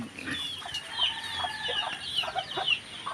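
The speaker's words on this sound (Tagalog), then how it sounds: "Ayan ang mga manok." Chickens cluck and cackle nearby in a scattered, irregular chorus, with occasional sharper calls over a faint outdoor background, during Typhoon Carina.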